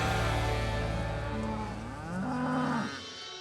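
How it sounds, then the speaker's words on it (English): Cattle on an Australian farm with around three hundred head, heard as loud, close, drawn-out moos that overlap and waver in pitch, continuing steadily for several seconds with no talking. "I've got 300 odd head of cattle as well."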